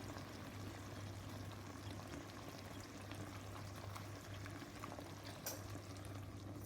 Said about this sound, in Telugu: వేడి నీళ్ళు మరగబెట్టి దాంట్లో వేసింది.